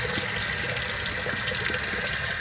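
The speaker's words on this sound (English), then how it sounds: "And that would mean turning on the water" Water runs steadily from a household faucet while an aquarium is being refilled during a water change, giving a continuous hiss and rush at even, close volume for the whole stretch, with no voices.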